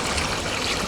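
Water rushes steadily through a pressure shower's filter system, a loud, unbroken hiss and gush with no pauses and no voices.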